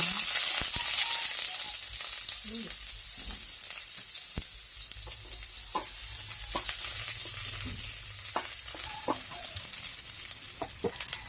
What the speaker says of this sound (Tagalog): Ilagay na natin yung ating sibuyas